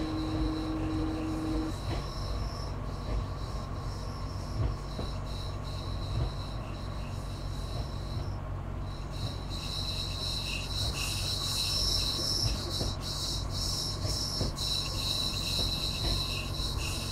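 Frankfurt U-Bahn train on the U6 line toward Ostbahnhof in Train Simulator 2015, with a steady low rumble of rolling running gear, faint squealing wheels and high electrical whines, continuous throughout.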